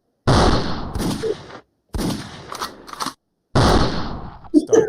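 Three bursts of gunshot sound effects played on a podcast, each a loud blast trailing into a short decay, separated by brief silences, with a final cluster of sharper pops at the end.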